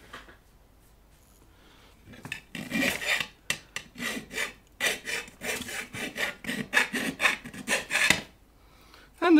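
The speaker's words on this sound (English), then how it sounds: "it will be time to remove the burrs on this one. I will use a half round file." A half round file removes burrs from a drilled amplifier chassis. After a quiet start come repeated rasping strokes, close and fairly loud, in an uneven back-and-forth rhythm with short pauses between bursts.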